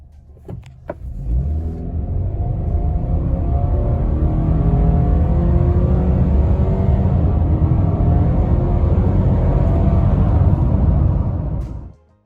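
A 2022 Subaru Crosstrek Sport's 2.5-litre boxer engine roars loudly and steadily for about eleven seconds as the car accelerates hard from a standstill, 0 to 60, its pitch climbing through the gears, then cuts off abruptly.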